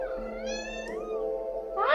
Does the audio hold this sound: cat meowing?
yes